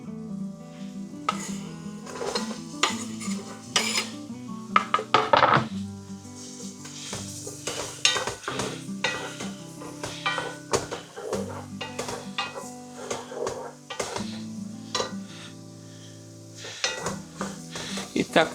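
Chopped carrot and onion sizzle in a frying pan while a utensil stirs and scrapes, steady frying hiss under irregular clacks and clinks, close and moderately loud.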